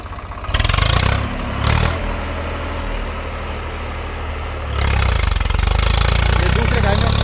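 A Swaraj 855 4x4 tractor engine runs in second gear high with four-wheel drive at about 1500 RPM while ploughing, producing a loud, continuous close-up rumble that dips briefly and then swells again near the end.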